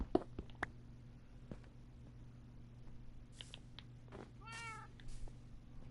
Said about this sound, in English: Come on, kitty, kitty, kitties. Come on, cats.